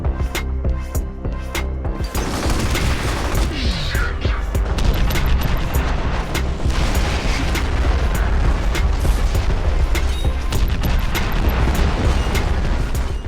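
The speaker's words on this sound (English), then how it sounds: "These include the Mod 3 multi-rocket launcher, which sends 3 rocket-propelled grenades out and devastates whatever it hits." Rocket-launcher blasts from the shooter game F.E.A.R. fill the stretch: a dense, sustained barrage of booming explosions and rumbling impacts, loud and continuous with heavy low-end weight and no pauses.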